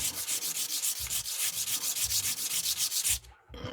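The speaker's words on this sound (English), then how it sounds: "As you can see, this carbide sandpaper is really tearing this stuff up." Hand sanding of a gemstone edge on carbide sandpaper, a loud, steady rhythmic rasping of quick back-and-forth strokes, about four per second, close up, with a short pause near the end before the strokes resume.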